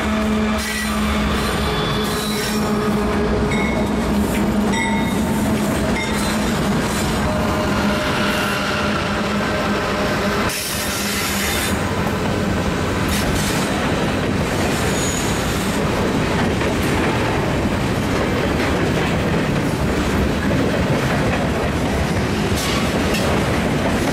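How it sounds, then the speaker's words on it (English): A freight extra train climbs a hill on the rails, its steady rumble and wheel squeal filling the scene continuously and loudly with clickety-clack rhythm and no voices. "Down at Taylor, train M4R, which is a 14R extra train,"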